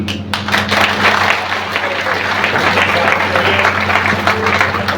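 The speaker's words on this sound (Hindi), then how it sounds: "वे लोग बड़ी जोरदार तालियों से स्वागत भी करिएगा" A crowd at a Bahujan Samaj Party rally applauds to welcome new party members, a loud, steady wash of clapping over a constant electrical hum from the sound system.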